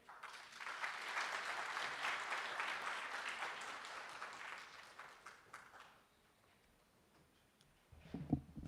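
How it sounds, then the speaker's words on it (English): After a minister's keynote at a national parole review summit, the audience applauds in a full, sustained burst for about six seconds, then it fades into near quiet before a few closer sounds at the end. "Let's give him once more another round of applause"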